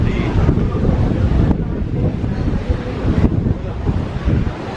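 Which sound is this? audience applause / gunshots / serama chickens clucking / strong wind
strong wind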